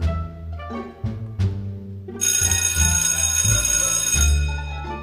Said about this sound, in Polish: Dobra, jest dzwonek, chodźmy na lekcję.